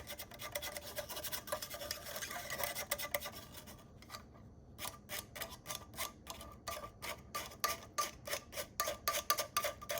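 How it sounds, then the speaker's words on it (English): Gold size being stirred and scraped in a container, a dry rasping rub that runs steadily, then breaks into quick rhythmic strokes, close and alone. "Mix it in with the rest of the size."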